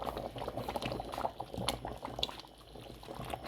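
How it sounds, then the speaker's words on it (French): Sauce graine with vegetables, protein pieces and chillies simmering in a pot, a steady dense bubbling and gurgling throughout, close and low in level, with a faint clink near the middle and no talking. "je vais laisser mijoter pendant une dizaine de minutes"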